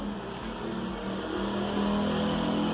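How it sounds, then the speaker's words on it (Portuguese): A motorcycle passes on a road in the rain, heard as a steady, fairly loud engine drone that swells slightly toward the end, with no talk over it. "Essa moto passando."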